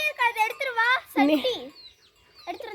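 Four male ducks on a farm during the rainy season give a run of loud, close, harmonic quacking calls in several bursts, with a short pause near the end before another call.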